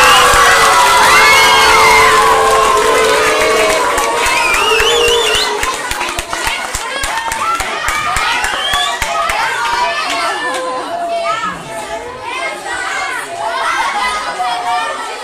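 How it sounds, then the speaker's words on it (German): Children of a school class cheer, shout and clap loudly for the winners at the Weitental Freikampf competition, a crowded, lively roar of excited young voices with chatter continuing as the noise gradually settles. "Einen riesengroßen Applaus für die Burschen und die Mädels der 2C NMS Kapfenberg Körner."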